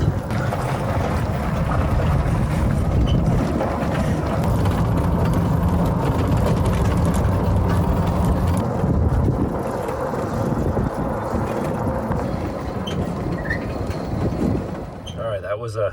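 Electric golf cart running on LiFePO4 batteries climbs a road hill while towing a log splitter, giving a steady loud drone of motor, rolling rumble and wind buffeting that holds throughout and eases near the end.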